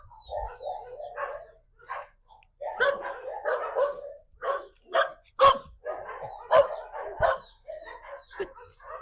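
Several dogs barking up on a rooftop in a neighborhood, a rapid run of sharp, fairly close barks and yips in irregular bursts across the clip, with a brief low rumble at the start.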